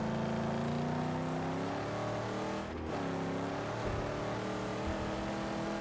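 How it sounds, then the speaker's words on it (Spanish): Car engine in the Mad Max video game, a steady low droning hum at moderate volume with a brief dip and shift in pitch midway, as if the vehicle changes speed, no talking over it. "Escucho un auto."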